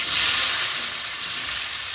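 Amla (Indian gooseberries) sizzle in hot mustard oil, a loud, steady hiss of frying that holds evenly throughout with no voices.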